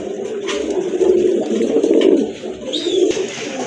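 Pigeons coo at a market stall selling pairs of birds, a close, loud, throaty rolling coo that swells and fades in waves, with a brief higher chirp near the end.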